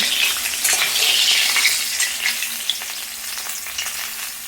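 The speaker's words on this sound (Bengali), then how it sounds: "তো এই যে মাছের মাথাগুলো লাল করে দুদিকে থেকে ভেজে তুলে নিয়েছি।" Rohu fish heads fry in hot oil with a loud, continuous hissing sizzle and crackle, close up and alone, easing off slightly toward the end.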